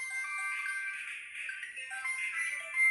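A mobile phone ringtone plays a light, tinkling melodic tune, moderately quiet and continuous, with no voices over it.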